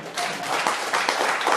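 An audience at a live music show at The Blue Lamp in Aberdeen gives a brief burst of steady clapping and applause, dense and fairly loud.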